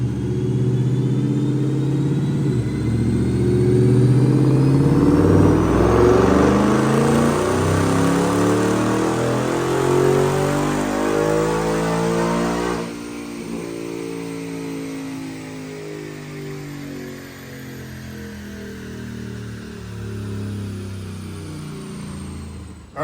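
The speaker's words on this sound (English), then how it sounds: "Check out this dyno pull." A supercharged 2013 Mustang GT automatic with a Roush 710R kit makes a loud dyno pull, the engine climbing steadily in pitch to a high wail, then dropping off as it winds down near the microphone.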